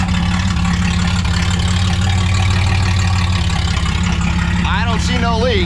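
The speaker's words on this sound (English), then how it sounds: "Sorry it's loud, I had to cut the exhaust off." A loud, rough engine with its exhaust cut off idles steadily and harshly throughout, with a brief higher squeal or whine near the end.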